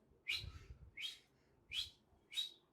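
A child whistles four short rising notes at an even pace, each bright and clear with quiet pauses between them, close by and alone.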